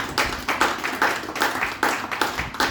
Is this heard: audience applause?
yes